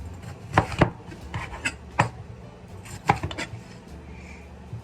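A knife taps a cutting board in uneven bursts while julienning vegetables for a curry stir-fry, with close, crisp chops arriving in small clusters and pauses between them.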